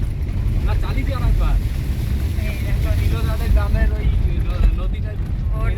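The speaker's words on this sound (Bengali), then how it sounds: "জলের মধ্যে দিয়ে গাড়ি চালানো" A car drives through floodwater on a flooded village road with its wheels submerged, producing a loud, steady rumble with wind buffeting the microphone while voices talk over it.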